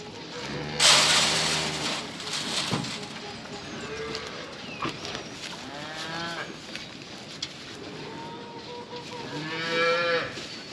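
Cows moo repeatedly, several long low calls overlapping at varying distances, with brief human voices in between.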